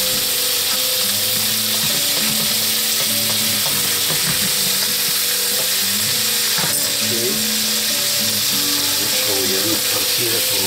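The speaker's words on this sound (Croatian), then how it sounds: "za jaje na oko ulje" Egg frying in hot oil in a pan for an egg and bacon sandwich, a steady close sizzle and crackle running throughout with occasional scraping clicks.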